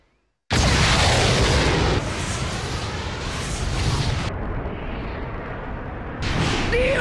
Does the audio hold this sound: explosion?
yes